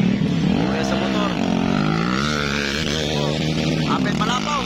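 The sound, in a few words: motocross motorcycles racing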